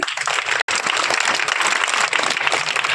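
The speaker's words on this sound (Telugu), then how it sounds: "ఇప్పుడు నాన్నల క్లాప్స్ ఇవ్వండి" Sustained audience applause for the fathers at a parent-teacher awareness meeting in a high school, a dense, steady wash of many hands clapping with one brief dropout near the start.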